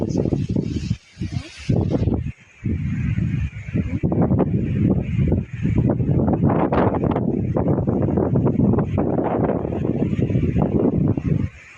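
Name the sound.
strong wind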